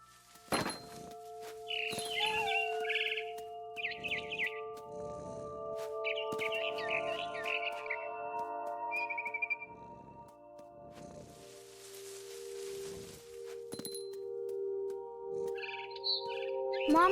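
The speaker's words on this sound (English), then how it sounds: "I heard chirping outside my window. It was a barn swallow going back to her nest." Barn swallow chirping in the video game What Remains of Edith Finch, bright repeated tweets in short bursts mixed with thunks, tones and footsteps, fairly close and clear.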